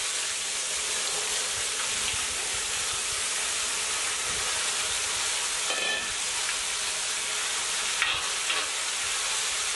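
Tindora frying in a cast iron pan with asafoetida and turmeric, a steady close sizzle and hiss running throughout, with a few brief scrapes of stirring.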